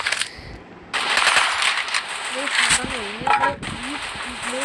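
Automatic gunfire rattles in bursts from an online shooter game played under a first-gun-only challenge, with loud noisy blasts and a whining tonal sound in between, while a voice talks over the action.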